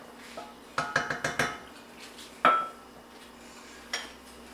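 Fried pork goes into a pot with several quick metallic clinks of a utensil against the pot, a louder clank after a pause, then one more soft knock, all close and without talk.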